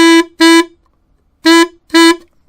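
A baritone saxophone mouthpiece played on its own sounds four short, buzzy tongued honks in two pairs with a pause between them, loud, close and reedy.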